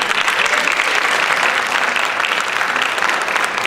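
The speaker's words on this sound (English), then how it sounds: "Mindy Staples, your guys' secretary, who needs a round of applause." A roomful of faculty and staff at a school district meeting applauds the district secretary, a steady dense wash of hand claps that holds at an even level for the whole stretch.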